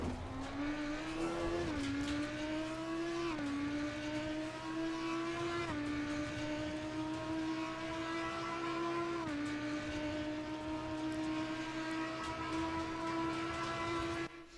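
An Audi EVO race car in Assetto Corsa Competizione drives at Snetterton, its engine a loud, steady high-revving drone that climbs through gears with brief dips at each shift, with no talk.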